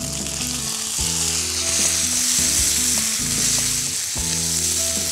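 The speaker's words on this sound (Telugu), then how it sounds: "టొమాటో ముక్కలు వేసుకొని ఒకసారి బాగా మిక్స్ చేసేసుకుందాం" Fennel seeds, curry leaves and tomato pieces fry in hot oil in a pan with a loud, steady sizzle and occasional stirring, over a melodic music bed.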